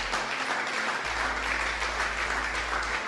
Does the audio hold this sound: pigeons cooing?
no